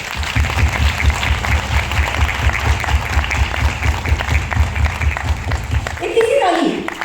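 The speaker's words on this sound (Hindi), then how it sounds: "सर के लिए एक बार जोरदार तालियां हो जाए।" An audience at a direct-selling business event claps loudly and steadily in a rhythmic, crowded wave, with a voice speaking over it as the applause winds down at the end.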